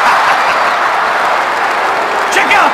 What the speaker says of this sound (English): Check out this crowd.